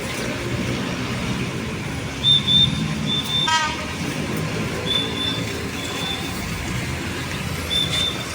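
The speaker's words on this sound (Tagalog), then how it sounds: "Ito may train na dadaan mga kababayan." A train rolls past near elevated expressway pier and platform construction along Ramon Magsaysay, a continuous loud rumble of wheels with a few short horn toots sounding partway through.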